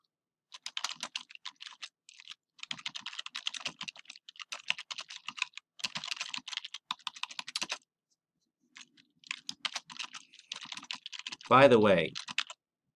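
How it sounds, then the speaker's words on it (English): Computer keyboard being typed on: quick bursts of light, close clicking keystrokes in several runs separated by short pauses, with a brief spoken phrase near the end. "this text that I am typing is all demo"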